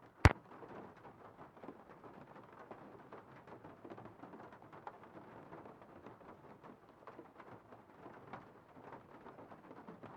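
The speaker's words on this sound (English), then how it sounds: "Because of the big storm that's blowing in." A thunderstorm in a Nancy Drew game: a sharp crack opens, then a steady hiss of rain and storm noise carries on at a low, even level with no talk.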